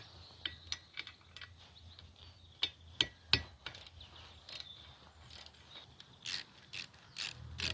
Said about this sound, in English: 110mm socket on the world's shittiest ratchet